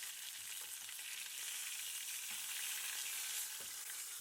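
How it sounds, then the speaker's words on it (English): A steak sears in a hot pan with a quiet, even hiss and sizzle, a few soft clicks as it is turned, steady throughout and free of speech. "Rotate and sear until it's completely seared all the way around."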